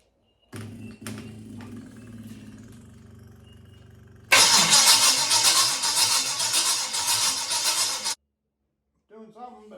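A 6 inch rodded 350 Chevy V8 cranks without catching, first a lower, steadier starter churn and then a louder, harsher whirring stretch of several seconds that stops abruptly.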